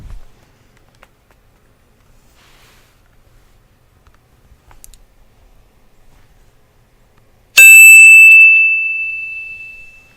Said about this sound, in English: So when you hear that chime,